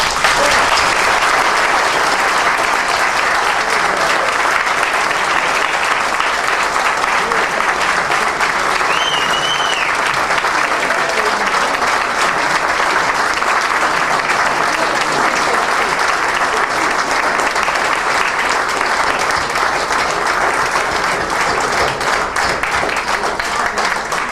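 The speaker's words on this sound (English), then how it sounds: "please join me in giving Iris and Arnie a big hand of applause" A big, loud round of audience applause at a class of 1965 50th reunion, sustained clapping from a crowd lasting well over twenty seconds without letup.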